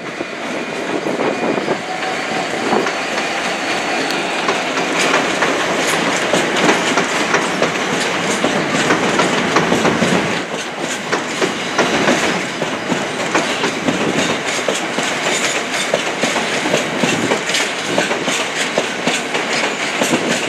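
A Canadian-built class 66 locomotive, 66951, rumbles past at Willesden Junction hauling empty JNA wagons. The roar stays loud and continuous, with rhythmic clickety-clack of wheels over rail joints and faint squeals, and no voices.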